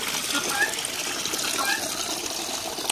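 Steady rushing water filling containers inside a barn, a continuous gushing hiss at moderate level with no breaks and no talking.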